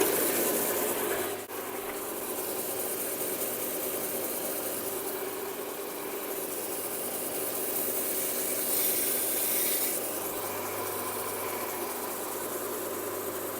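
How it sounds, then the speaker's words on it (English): A Tormek T8 sharpener grinding a thin Shun flexible filleting knife gives a steady, close abrasive hiss and rasp that swells gently as the blade moves, with no talking. "so let's head over to the sander."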